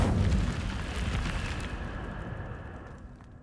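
An Incendio fire spell in Hogwarts Legacy erupts in a loud whooshing, roaring burst of flame that starts strong and slowly fades over a few seconds, with no talking.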